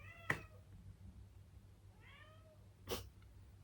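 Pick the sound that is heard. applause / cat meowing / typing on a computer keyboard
cat meowing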